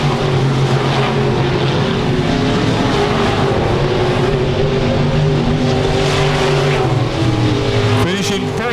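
IMCA Sport Mod race cars run a heat at RPM Speedway. Loud engines roar continuously as the field races by, with an announcer talking over the track noise.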